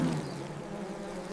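Bees from a disturbed hive buzz in a cartoon, a continuous close, loud droning hum that holds steady for a moment with no talk.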